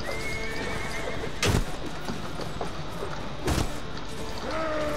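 Horse in a video game neighing twice, each whinny a loud, sharp burst, over a steady backdrop of in-game ambience and faint hoof sounds.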